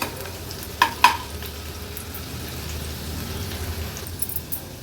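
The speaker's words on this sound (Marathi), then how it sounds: "कांदा व्यवस्थित परतून घेऊया तेलामध्ये।" Onion sautéing in oil for a Konkani fish curry, a steady close sizzle with a couple of sharp utensil clinks against the pan early on.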